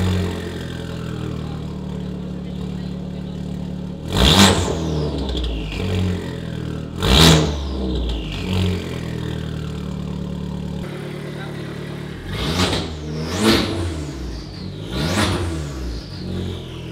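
Rally competition car with a racing exhaust, its engine idling with a steady low rumble and then bursting into several loud, sharp revs, two separated blips followed by three quicker ones close to the microphone.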